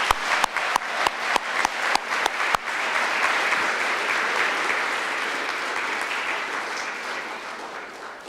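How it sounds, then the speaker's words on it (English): An audience at a school award ceremony breaks into applause: a few sharp separate claps at first, then a dense, loud, sustained wave of clapping that slowly tapers toward the end. "So let's give those folks a round of applause."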